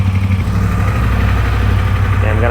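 A Triumph Bobber motorcycle engine idles steadily and close by, a low continuous rumble with no pauses, running just after an oil change during a home first service.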